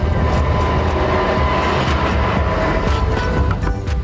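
A steam train runs along the track with a continuous loud rumble and low mechanical roar, steady throughout with no talking.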